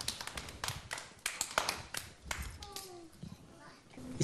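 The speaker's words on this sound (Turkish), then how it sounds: "Arkadaşlar alkış yapın, hadi." Children on a New Year's special kids' television program clap their hands in quick, uneven bursts of light taps, with adult and children's voices talking among the claps.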